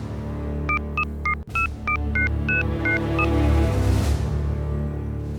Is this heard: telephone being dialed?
yes